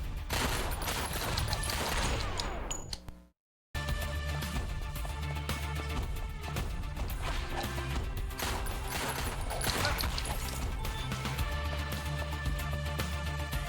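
Enemy gunfire in the video game Mr. Shifty, with foes wielding two guns: dense, continuous rattling bursts and crashing impacts layered over a steady game soundtrack, cutting out for a brief silence before resuming loud and busy.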